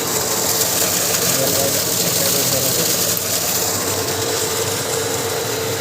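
A farm motor engine runs steadily close by in a village field, giving a continuous droning hum with faint rattling vibration that holds level throughout, with no clear speech over it.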